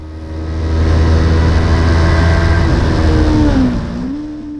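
A race car accelerating hard away from the start line at Oulton Park, engine note climbing steadily through the revs, loud and close, then easing off near the end.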